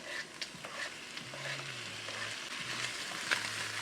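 Garlic and onion stir-fried together in a pan, giving a steady close sizzle with light scraping and stirring and a few utensil taps against the pan.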